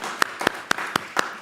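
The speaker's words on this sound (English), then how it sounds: "One more round of applause for our panelists" At a live conference panel on Mexico and the Americas, an audience claps for the panelists leaving the stage, heard as six sharp, evenly spaced claps that sound close and thin rather than like full applause.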